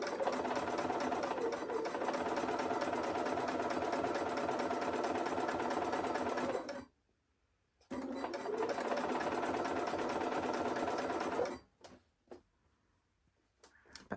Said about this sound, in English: We're just going to sew a few stitches and then we're going to carry straight on with the next one.